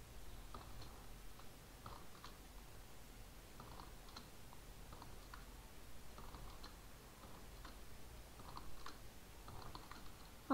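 Quiet, steady clicking of a computer keyboard as someone plays a Roblox bank-robbing obby without a mouse, the keystrokes coming in irregular bursts throughout with no talking.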